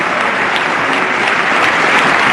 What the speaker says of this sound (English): Who the hell would clap for this guy?